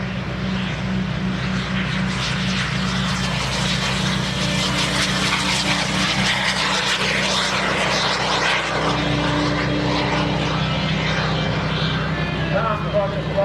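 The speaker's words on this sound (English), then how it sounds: "There's Tom Larkin and the SubSonex Mini Jet." SubSonex Mini Jet flying at the 2021 Greenwood Lake Airshow, a steady, loud engine roar that holds throughout while an announcer talks over it.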